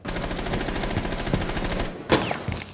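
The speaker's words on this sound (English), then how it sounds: "Oh, they shot you." Rapid automatic gunfire from a video game, a dense steady burst of shots running nearly three seconds, then a short gap followed by a louder single blast and a few more scattered shots.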